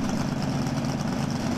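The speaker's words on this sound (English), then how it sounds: "Now the rear engine is on nitromethane." The nitromethane-fuelled rear engine of the Challenger II dual-engine dragster runs with a steady, loud, low rumbling roar, continuous and close, with no talk.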